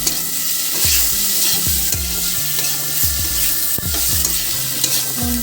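Salt and turmeric fry in hot oil in a pan, a bright continuous sizzle broken by repeated knocking and scraping of a spatula against the pan, close and fairly loud, no voices.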